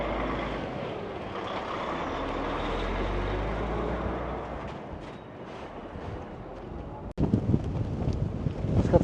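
Strong wind buffets a microphone on a roadside, a steady low roar that dips briefly before a sharp cut and a harsher burst of gusts toward the end.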